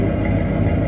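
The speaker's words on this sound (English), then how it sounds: "You hear that fuel pump? It's running super smooth." A car engine idles with a steady low hum and a smooth, even fuel pump whir, close and constant throughout, with no revving or other sounds.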